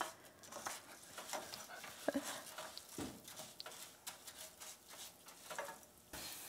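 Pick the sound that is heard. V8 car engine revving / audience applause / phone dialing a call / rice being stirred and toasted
rice being stirred and toasted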